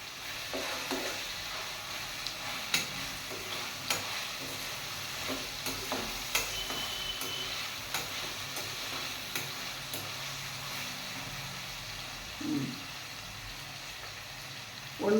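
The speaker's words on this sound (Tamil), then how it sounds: "ஹை ஃப்ளேமில் இஞ்சி பூண்டு கொஞ்சோண்டு தான் போடணும்" Ginger garlic paste fries on a high flame in a pan, a soft continuous sizzle punctuated by sharp spoon clicks and scrapes from stirring, with a louder burst near the end.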